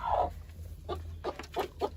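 A brooding hen gives a few short, soft clucks in a rhythmic series, close by, over a low steady hum.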